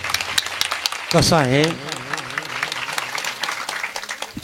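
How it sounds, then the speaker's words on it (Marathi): A kirtan audience claps for a young boy, a dense patter of applause running throughout while a voice calls out loudly over it near the middle. "या पोराासाठी टाळ्या वाजवा."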